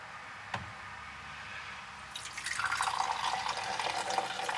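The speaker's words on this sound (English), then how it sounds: "So, literally, I'm going to pour this in right into the center here." Liquid is poured into the center of a HummingGuru ultrasonic vinyl record cleaner. After a quiet start with one small knock, a bright, splashy trickle begins and grows into a steady pour.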